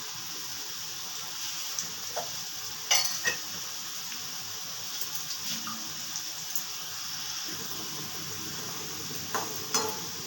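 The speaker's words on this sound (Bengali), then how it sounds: "আলুগুলো ভাজা হয়ে গেছে" Potatoes frying in oil give a soft, steady high hiss, broken by a few light clicks of a utensil against the pan, with no talking.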